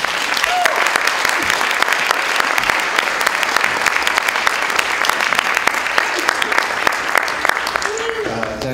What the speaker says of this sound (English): So let's clap for Juliana Spahr and David Buuck.